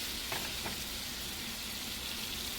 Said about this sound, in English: Pick that up off there and let it sear.